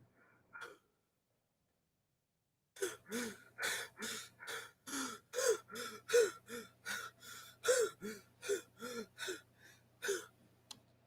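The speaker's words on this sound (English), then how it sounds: "Some of these breathing ones are pretty good." Game sound effects for breathing in Unreal Engine 5 play as a quick gasp, then after a pause a steady run of about fifteen rhythmic, close, loud breaths with a faint low hum beneath.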